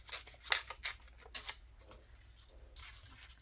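A junk-mail paper envelope being ripped into strips, heard as several quick, close tearing bursts in the first second and a half, then a quieter stretch with one more soft rip near the end.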